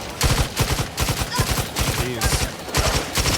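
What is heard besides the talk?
rifle gunfire from the video game The Outer Worlds 2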